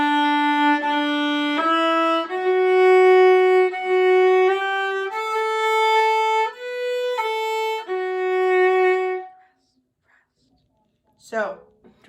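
A solo violin plays the opening four measures of a Vivaldi piece as sustained bowed notes in a clear stepwise melody, followed by a short silence and a brief faint sound at the end.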